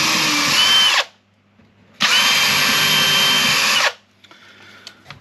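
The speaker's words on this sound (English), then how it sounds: "Yeah, definitely needed to drill that." A power drill working on a boat runs in two loud, close bursts, a short one and then a longer whine of about two seconds, separated by near silence. Faint clicks follow.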